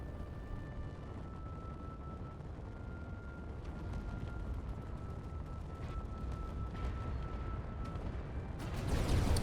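A ship ramming and tearing apart a bridge in Space Engineers, a steady low rumbling roar of grinding destruction that swells louder near the end, with no talk.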